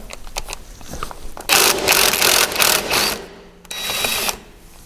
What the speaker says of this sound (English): take that off with the impact